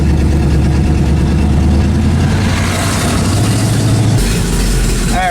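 A Pontiac LeMans Sport with a freshly recored OEM radiator sits idling in a shop, its engine giving a steady, close, even rumble throughout with a slight shift in tone near the end.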